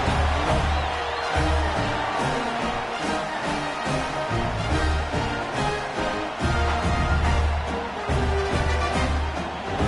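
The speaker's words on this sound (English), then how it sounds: "this crowd is buzzing after that last score" A football game crowd keeps up a steady, loud buzz of voices and murmuring after a score, with no single cheer standing out.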